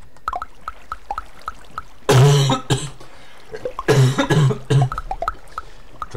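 Two bursts of harsh coughing from one person, close and loud, separated by quiet stretches with faint clicks in the background.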